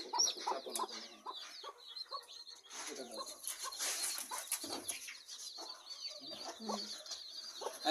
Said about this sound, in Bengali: এইখানে দেখেন আরেকটা মুরগি বাচ্চা ফুটাইছে।